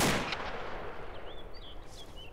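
An AK rifle shot in a video game, a single sharp report at the start that decays into a faint tail, followed by quiet background with thin whistling tones.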